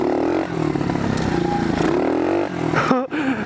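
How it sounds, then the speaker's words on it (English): A pit bike's small engine revs steadily out on the road, its harmonic drone rising and falling through gear changes, with a sharp break and quick re-rev near the end. "I got a fucking pit bike on the road"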